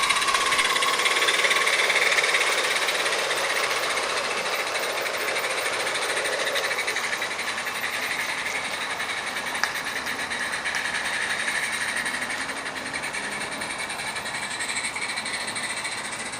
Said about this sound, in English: Linda stretches her legs on a continuous run with empty slate wagons